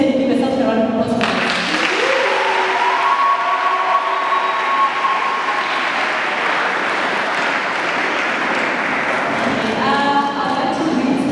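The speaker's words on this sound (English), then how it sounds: "Please can you give yourself a round of applause?" A large audience at a school gathering applauds after being greeted, with dense, sustained clapping lasting about ten seconds, starting abruptly and thinning slightly near the end.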